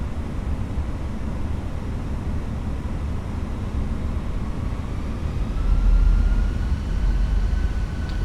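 An airliner taking off in a flight simulator game: a steady, loud, broad engine roar that swells slightly toward the end, with a faint rising whine, and no talking.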